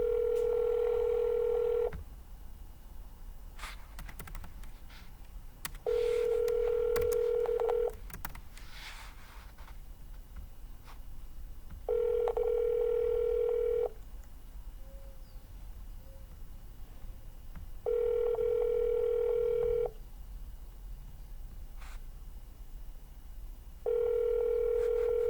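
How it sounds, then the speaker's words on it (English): A telephone ringback tone repeats: five steady two-second tones spaced about four seconds apart, with faint background noise between them. "give me a thumbs up if you can hear the ringing okay"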